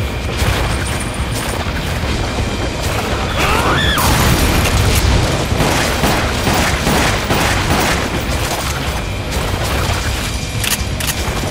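Grenade launcher blasts in the Resident Evil Umbrella Chronicles game come as a dense run of loud, booming explosions with bursts and mechanical clatter, continuous and close, with little or no talk.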